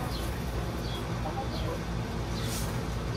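A chicken clucks in short, repeated calls over a steady, noisy farmyard background, with brief higher squawks scattered through and no talking.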